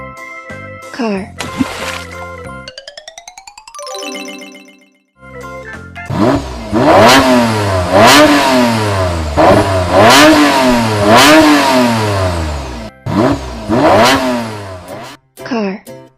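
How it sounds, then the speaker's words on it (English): A car engine revs in a series of loud, sweeping accelerations that rise and fall repeatedly, preceded by a few seconds of synthetic electronic tones and bleeps, with short pauses between bursts. "Car."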